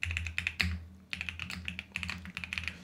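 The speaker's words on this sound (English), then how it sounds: "Now, if we go down in our document and I type something" Typing on a computer keyboard in a word processor: quick bursts of close, crisp key taps with brief pauses between runs.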